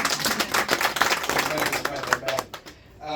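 A church congregation claps together during a Swahili sermon, a burst of quick, uneven hand claps that fades out near the end while a preacher keeps talking.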